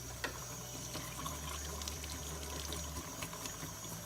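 A 1978 Kenner Darth Vader action figure is scrubbed under warm running tap water with dishwashing detergent, making a steady, faint rush of flowing water with small knocks throughout.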